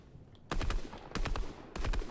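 Fortnite gunfire comes in three loud bursts of rapid automatic fire, each lasting about half a second, with short pauses between them. No one talks.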